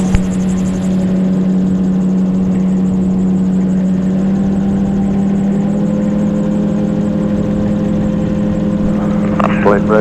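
An autogyro flying a left-hand circuit at 800 feet near Liverpool gives a loud, steady engine drone with a low rotor hum throughout, close and constant, with radio-style speech briefly breaking in near the end.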